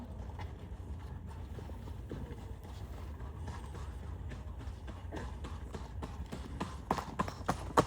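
Rhythmic clip-clop of horse hooves on a hard road in Lexington, Massachusetts, during a Paul Revere's ride reenactment, growing louder and closer toward the end.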